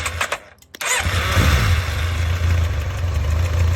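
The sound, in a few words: motorcycle engine starting and idling with a ticking clatter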